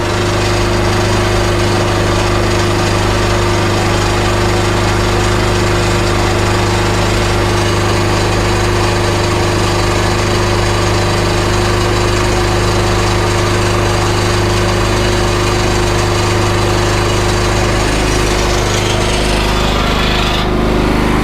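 A log loader dump trailer body rattles as it lifts, buried in a loud, steady mechanical and hydraulic drone that runs without a break and shifts slightly near the end. No one speaks.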